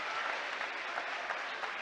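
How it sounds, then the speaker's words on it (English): A crowd at a high school basketball game gives a player steady, even applause for the whole moment, a dense wash of clapping at moderate distance. "as the crowd gives him a hand"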